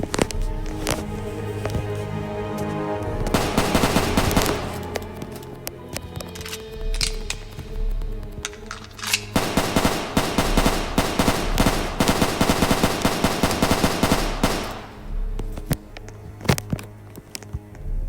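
Gunfire in a Roblox game, loud rapid repeated shots in sustained bursts over a continuous game soundtrack, with a short lull between two heavy stretches of shooting.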